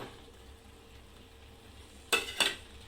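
Paneer cubes dropped into hot oil with peas, giving two sharp, close bursts of sizzle and a clatter of stirring near the end after a stretch of faint, quiet frying.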